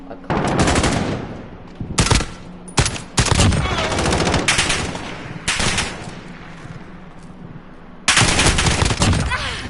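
Gunfire from a weapon in Call of Duty, loud bursts of rapid automatic shots in several separate volleys with short pauses between them, a voice talking faintly in between.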